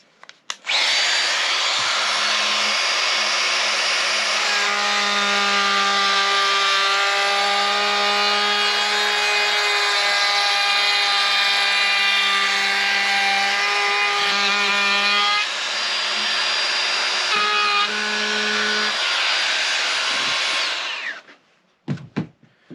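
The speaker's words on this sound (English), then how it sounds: "we're going to use the Bosch 12 volt router, which is the GKF 12V-8" A Bosch GKF 12V-8 cordless router rounds over the edges of a board with a loud, high, steady whine that spins up, holds for a long pass with shifting pitch, then winds down, with no talking.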